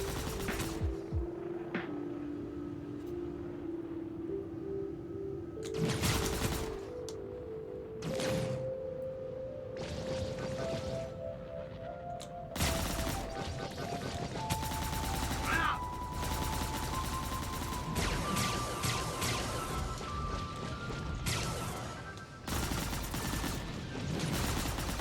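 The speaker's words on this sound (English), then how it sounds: "Only one of my guns is shooting on those." Ship cannons fire in Star Citizen, bursts of rapid gunfire cutting in and out over a steady engine hum and rising tones, fairly quiet overall.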